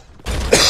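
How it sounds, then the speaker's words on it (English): A single short, harsh cough or throat clear from a streamer playing a PS4 game, coming abruptly out of near silence and fairly loud and close. "This cough is not welcome."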